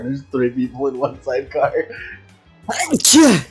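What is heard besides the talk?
sneeze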